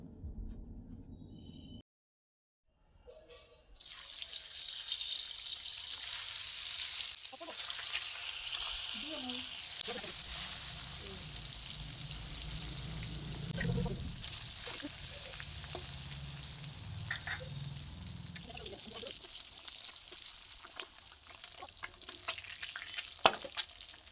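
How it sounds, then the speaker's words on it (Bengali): Eggs fry in mustard oil in a wok: after a brief quiet start, a bright steady sizzle sets in and runs on, with occasional spatters, stirring clicks and muffled speech in the background. "এবার আমি কড়াইয়ে সরিষার তেল দিয়ে ডিমগুলো ভেজে তুলে নেব।"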